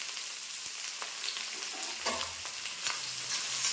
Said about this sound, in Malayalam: നന്നായിട്ട് വഴറ്റി മൂപ്പിച്ചെടുക്കാം.